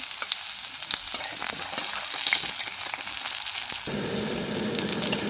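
Potato pieces sizzle in oil in a wok with a continuous, fairly loud hiss, broken by a few scraping stirs. The frying grows fuller and denser near the end, and no one speaks.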